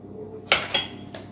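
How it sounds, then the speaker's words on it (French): Two eggs cracked against a hard edge and dropped into a bowl of flour and sugar for strawberry Pim's-style cakes, giving two sharp close clicks half a second apart and a softer tap after, with no talking. "mes 60 g de farine, mes 50 g de sucre auquel je vais ajouter 2 œufs"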